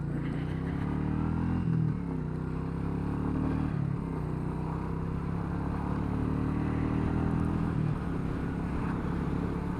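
Royal Enfield Meteor 350, a single-cylinder motorcycle of about 20 horsepower, ridden up through the gears, its steady engine note dipping and rising at each shift over continuous wind and road rumble, with no talk.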